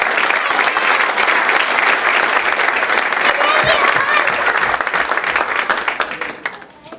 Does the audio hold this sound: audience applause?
yes